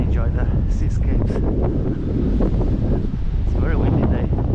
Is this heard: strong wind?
yes